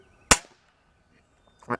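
A firecracker pellet air gun fires one sharp, loud crack that decays quickly into silence, followed moments later by a shorter, softer burst of sound.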